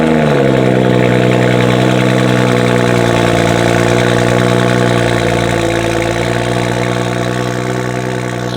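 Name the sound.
BMW 435i cold start with catless downpipes exhaust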